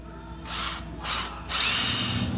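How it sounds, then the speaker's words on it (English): A power drill with a step bit whirs in three bursts, rising in pitch and grinding harder on the last one as it cuts a 7/8-inch hole through metal. "I'll use a step bit to drill it up to 7/8"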